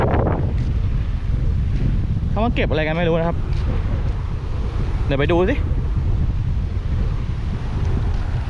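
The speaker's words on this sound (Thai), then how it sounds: "เสียงลม โบกเลยนะ ตีไม่ได้หรอกเงี้ยลมแรงจัด" Strong wind roars steadily and loudly across the microphone throughout, with someone speaking briefly over the buffeting gusts.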